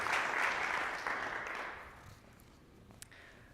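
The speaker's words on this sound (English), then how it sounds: "Let's give Cora one more big round of applause." An audience at a student final presentation showcase claps for a presenter, a moderate burst of applause that fades away over a few seconds.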